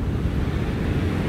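Sea waves during a winter walk in Germany give a steady broadband roar of surf churning close by, with no break, no talk and some wind rumble over the microphone.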